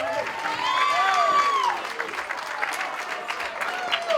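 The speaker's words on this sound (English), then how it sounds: "how about a nice big round of applause one more time for Clara and her dad" Wedding guests at Stone Pond in Marlborough, New Hampshire, applauding the bride and her father after their dance: a full, sustained round of clapping from a crowd, with whoops and cheers rising over it.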